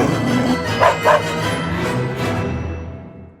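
A dog barks as a sound effect in an English audiobook of an Aesop fable, two loud close yips followed by a fading, reverberant tail.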